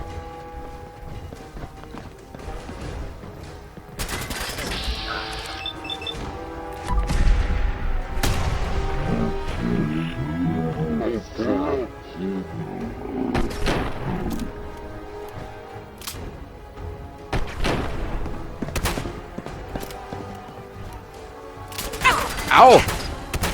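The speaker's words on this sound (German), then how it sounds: "Das scheiß Opfer hat mich angeschossen" Gunshots strike the player in Fallout 4, sharp bursts scattered over game music and effects amid a busy combat scene, with a loud impact near the end; a voice talks in between.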